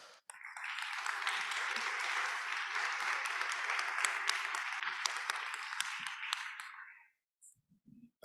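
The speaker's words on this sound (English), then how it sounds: "So please give him a round of applause." A crowd applauds at a district council meeting, a sustained burst of clapping lasting about seven seconds that stops abruptly, followed by a moment of quiet and a brief voice.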